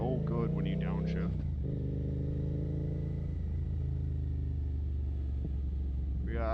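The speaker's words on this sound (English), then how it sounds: "It sounds so good when you downshift." A Suzuki GSX-8R motorcycle engine rumbling loudly and steadily, its pitch dropping and shifting as it downshifts, with a voice talking over the engine.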